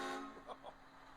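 A couple of short truck horn honks sound at a distance, partly buried under background crowd noise and chatter at a WWE Raw wrestling event.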